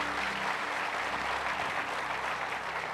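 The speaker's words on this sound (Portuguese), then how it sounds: "Dá um aplauso a Jesus." Church congregation applauding at a worship service, a steady broad wash of clapping from a sizeable crowd that fills the whole stretch without a break.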